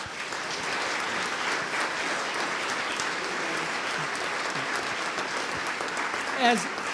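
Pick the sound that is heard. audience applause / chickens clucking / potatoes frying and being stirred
audience applause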